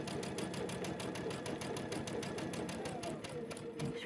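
A sewing machine stitches a quilt seam for a butterfly quilt, running steadily with a fast, even needle chatter up close throughout, alone without talking.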